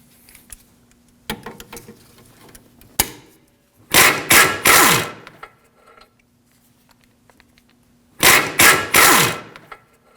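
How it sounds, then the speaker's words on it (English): A 17mm socket on a ratchet and channel locks work a sway bar link nut on a 2013-2015 Subaru XV Crosstrek, giving sharp metallic clicks followed by two bursts of rapid ratcheting with quiet gaps between. "To remove the sway bar link nuts, we're going to use a set of channel locks on the back side of the stud"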